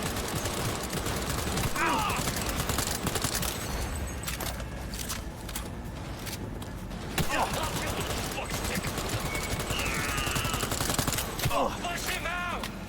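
AK rifle gunfire in Cyberpunk 2077, repeated loud bursts of rapid shots over several seconds with brief pauses, mixed with other game sounds and some speech-like chatter.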